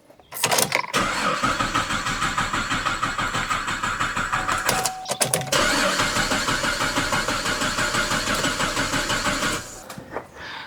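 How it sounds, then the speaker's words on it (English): A car engine cranks over and over in two long bursts with a short pause between them, the fuel pump removed so it never runs on its own; the steady rhythmic churning is loud and close. "I'm going to go ahead and crank it a few times and let pressure build up"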